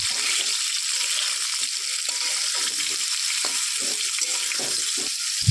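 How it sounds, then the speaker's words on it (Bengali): Potatoes fry in a wok with a little salt, cooked until reddish, giving a loud, continuous sizzle with faint stirring scrapes and no voices. "এবার আলুটাকে কিন্তু আমি লাল লাল করে একটু ভাজতে থাকবো।"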